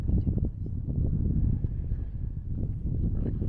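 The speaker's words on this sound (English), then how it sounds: "there's a lot of wind whipping around here" Wind buffets the microphone on a canyon rim at Dead Horse Point in Moab, Utah, a loud, steady, low rumble with gusty surges throughout.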